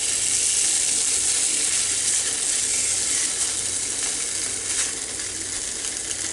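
Turkey hot dogs, some split open, sizzle steadily on a George Foreman grill, a loud continuous frying hiss with faint crackles throughout and no talk.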